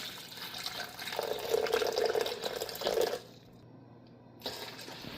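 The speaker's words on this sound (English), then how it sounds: "We're going to pour it in here." Water is poured from a carafe into a 12-cup coffee maker's reservoir, a close gurgling, splashing fill lasting about three seconds, followed by a short lull and a faint trickle.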